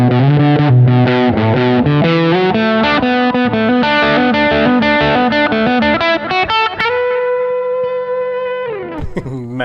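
Electric guitar through a Mosphoros overdrive pedal by RHPF Elec in its Utopia setting, playing in B minor: loud, driven strummed chords up close, then a long sustained note ringing out before a final scrape, no talk.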